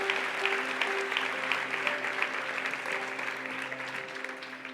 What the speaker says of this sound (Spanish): Te damos un buen aplauso